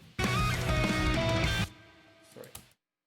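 Two rhythm guitar tracks, one panned left and one right, play raw with no processing, a dense strummed chord passage loud for about a second and a half before cutting off, followed by a quieter ringing tail and a couple of short hits.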